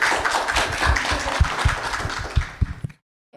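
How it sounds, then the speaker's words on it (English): An audience claps for a panel of students, producing a dense patter of many hands that thins toward the end and then cuts to silence. "Please give a round of applause to our panelists."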